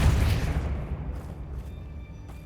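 Depulso spell cast in the video game Hogwarts Legacy, a single heavy booming blast that hits loud at once and rumbles away over a couple of seconds, with no talking.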